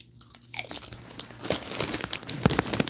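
Flaming Hot Doritos chips crunched and chewed up close, a quiet start giving way to dense, repeated crisp bites and chewing crackle, with sharp louder crunches near the end.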